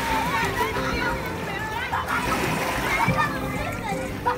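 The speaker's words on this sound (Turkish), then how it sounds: "Dalgalar izin vermiyor onu gömmemize." Sea waves splash and slosh steadily against a sandy beach while children talk and play close by, their voices over the water throughout.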